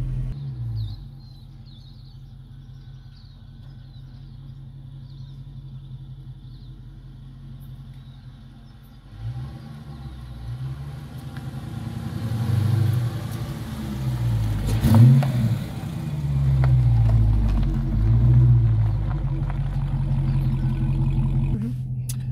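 A 2016 Chrysler 300 SRT drives off in daily traffic. A quiet engine hum gives way to a deep, rising rumble as it accelerates hard, with revs swelling and easing, heard from inside the cabin.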